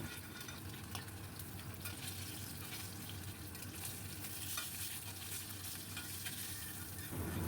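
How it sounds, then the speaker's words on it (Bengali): Cut potatoes frying in leftover oil after fish, giving a steady close hiss and sizzle with light stirring scrapes throughout, fairly quiet and without any voices. "বাকি তেলে আমি প্রথমে কেটে রাখা আলু অল্প ভেজে নেব"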